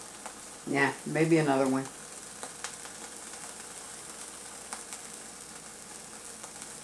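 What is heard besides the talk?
water boiling in a pot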